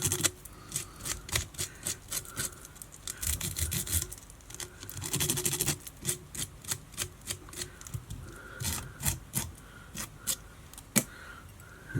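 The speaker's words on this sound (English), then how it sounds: "then you just scrub and scrub and scrub, and it will come out and it will look lovely" A brush scrubs fly-tying dubbing and hackle in quick repeated rasping strokes, close and dry, coming in rhythmic bursts with a brief denser stretch of rubbing midway.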